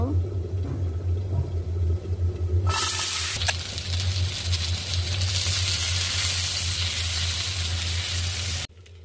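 Green tomatoes fry in a pan for Bengali bhorta; after a low background hum, a loud, hissing sizzle suddenly erupts and crackles steadily for several seconds, then cuts off abruptly.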